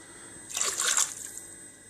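A short splash of hot dog soup liquid with herbs and spices poured into a pan, rising briefly and trailing off into quiet after about a second.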